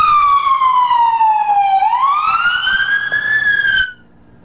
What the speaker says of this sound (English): with lights and sirens, a police cruiser answered the call